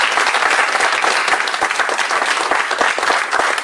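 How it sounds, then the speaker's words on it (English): An audience at a public debate on Islamophobia and antisemitism applauds Norman Finkelstein, a dense, loud, continuous burst of many hands clapping that fills the whole stretch without letting up. "let's just give a big hand of applause to Norman Finkelstein"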